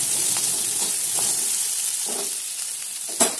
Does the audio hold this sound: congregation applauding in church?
no